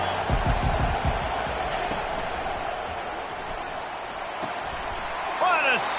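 Stadium crowd roar from a College Football 25 game, Tennessee at Florida, a steady broad wash of noise throughout with a few thumps near the start and a brief louder swell at the end.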